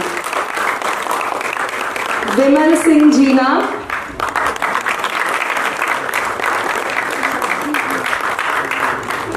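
A stage audience breaks into sustained applause, a steady rushing wash of many hands that continues for several seconds while a voice briefly announces over it.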